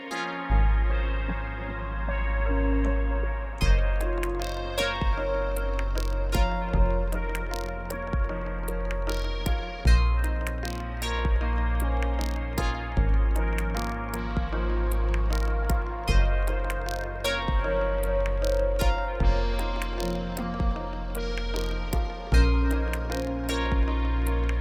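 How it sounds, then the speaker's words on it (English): A Teenage Engineering OP-XY synthesizer plays layered sequences with a chord part, a steady rhythmic pulse of bass and percussive ticks under sustained tones, loud and continuous with no talk. "And then together with the OPXY, sounds like this."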